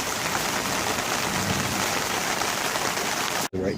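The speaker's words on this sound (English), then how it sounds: "It's just raining pretty good right now" Steady rain patters on rainwater catchment barrels, an even, continuous wash of drops that stays moderately loud throughout, with a brief dropout near the end.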